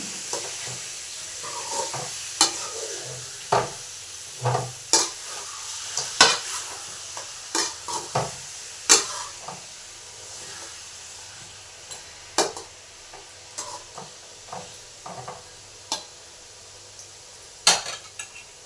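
A kilogram of chicken frying in a pan, with a soft steady sizzle under repeated sharp scrapes and clinks of a utensil stirring against the metal, close and fairly quiet.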